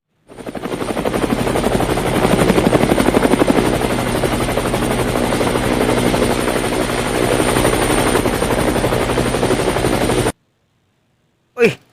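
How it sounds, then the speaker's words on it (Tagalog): A helicopter flies overhead after a cannon firing, its loud, steady rotor thump running continuously for about ten seconds before cutting off, followed by a brief short burst. "na-helicopter padulong"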